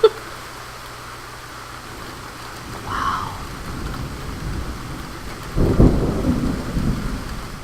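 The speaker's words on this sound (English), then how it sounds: "Is that rain? Yes." Steady rain falls outside a window, with a soft rumble of thunder near the three-second mark and a louder, closer thunderclap rolling in past five seconds, continuing to grumble to the end.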